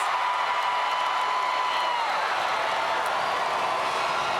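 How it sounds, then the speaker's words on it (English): A crowd at the Taylor High School 2017 graduation gives a final round of applause and whoops for the graduates, a steady wash of clapping heard from a distance. "can we have one final round of applause for a very fine group of graduates?"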